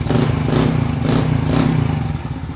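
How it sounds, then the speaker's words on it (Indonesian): Honda Legenda motorcycle engine after being kick-started, idling with a fast, even mechanical chatter and pulsing exhaust, loud and close, with no voices. "Perhatikan sekali lagi, kita engkol sekali lagi nih."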